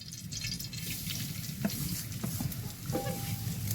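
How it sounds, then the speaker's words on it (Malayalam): Grated coconut roasts in ghee in a pan with a steady low sizzle and occasional scraping stirs and light clinks of a spoon. "നമുക്ക് ഈ തേങ്ങ ഒന്ന് വറുത്തെടുക്കണം കേട്ടോ ആദ്യം"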